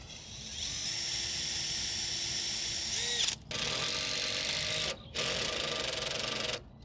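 Screw driven into a deck board with a power driver, a high whirring run that stops, then two more short bursts separated by brief pauses.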